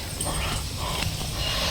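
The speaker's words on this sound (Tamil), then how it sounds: "கொஞ்சம் சின்ன நாய் தான் மக்களே." A small dog whimpers in short, thin whines. The cries sit over a loud, steady background hiss, with no one talking.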